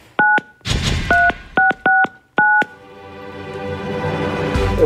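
A telephone dials a call: six crisp touch-tone beeps in an uneven sequence, followed by a rising hiss of line noise as the call connects.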